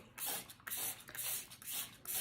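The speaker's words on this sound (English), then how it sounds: "I'm going to spray this on half of my pan here" Biozyme enzyme cleaner sprayed from a bottle onto a pan in a series of about five quick hissing bursts with short pauses between them.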